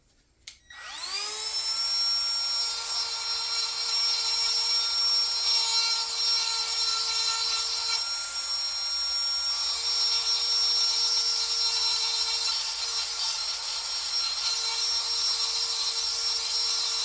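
A chisel works wood to fit a part for an antique 1892 Eclipse Meteor 12-gauge shotgun, giving a loud, close, continuous scraping rasp that holds steady after a sharp start, with no voices.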